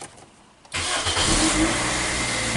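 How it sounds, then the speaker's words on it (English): A 2003 Toyota Corolla with transmission circuit faults cranks and fires abruptly after a quiet moment, then settles into a loud, steady idle close by, with no voices. "I'm gonna start the vehicle and see what's happening"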